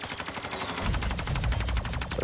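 Rapid automatic gunfire from a new weapon in Black Ops 3 Zombies on The Giant map, with steady close shots that grow heavier and deeper after the first second and continue to the end.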